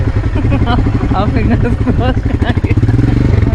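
A motorcycle engine labors up a steep uphill road near Rajgir, a close, loud throbbing rumble rising in effort, with people talking over it.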